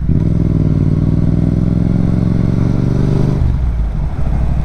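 Motorcycle engine running on 97-octane sports petrol, loud and close, revving with a rough clattery rumble, then the revs drop sharply near the end.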